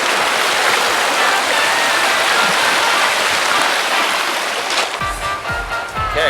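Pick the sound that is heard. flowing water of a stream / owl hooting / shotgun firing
flowing water of a stream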